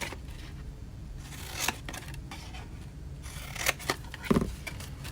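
Scissors cutting paper up to a score line while making a box, soft close snips and rasping scrapes over a steady low background.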